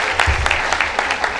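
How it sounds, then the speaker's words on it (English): An audience claps at the PWAN Group August 2019 success summit, a short burst of scattered hand claps with some low murmuring beneath. "I would clap for her."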